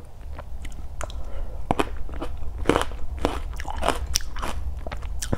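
Crunchy sour gooseberries bitten up close, with sharp crisp crunches repeating in quick succession followed by wet chewing, no talking.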